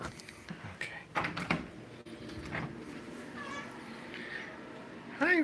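A mother cat, parent of three kittens, lets out a few meows close by, including a clear one at the end, with brief talking and door or cupboard clatter in between.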